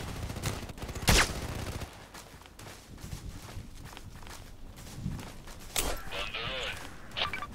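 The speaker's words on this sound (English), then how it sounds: "Oh, he has this other machine gun." Machine-gun fire and scattered shots in the shooter game Contract Wars come in short bursts over footstep-like tapping, while a player talks across most of the clip.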